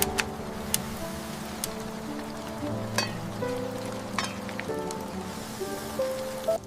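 Rain falls steadily on a morning in Nairobi, a continuous close patter with scattered sharper drips and ticks. No voices break the sound.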